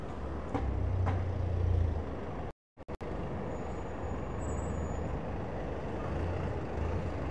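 Steady low truck engine rumble on a busy Ikebukuro shopping street as an Itoen delivery truck passes, with a brief dropout midway and continuous traffic noise throughout.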